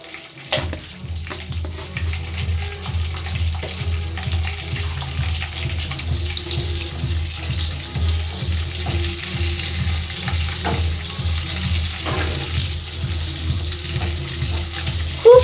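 Three small dried red chillies and about half a spoon of whole cumin sizzle steadily in hot oil as a tempering for dhaniya chicken, a dense continuous crackle with occasional stirring scrapes, close and loud, with no talking.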